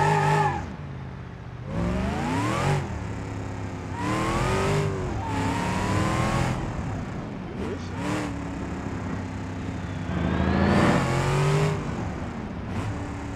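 A car engine in the BeamNG.drive driving game revs hard in repeated rising bursts, each climbing in pitch and then dropping back, loud and close, with a voice talking briefly over it.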